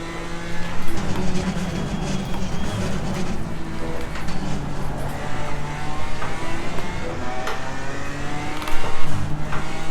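BMW M4 GT4 race car in Assetto Corsa Competizione, its engine revving hard through repeated rising and falling gear pulls, loud and close, with no talk over it.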